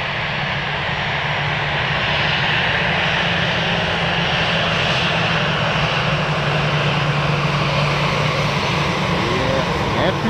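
Airplane landing on runway 25R at a freezing Frankfurt airport, a loud continuous engine roar with a low droning hum that stays steady throughout, close and dense, with talk faintly underneath.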